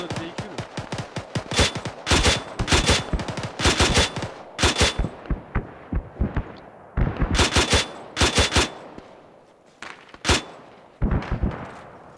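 Automatic and single gunfire in the military shooter Arma 3, loud rapid bursts of sharp shots in clusters with short gaps, some distant cracks between them.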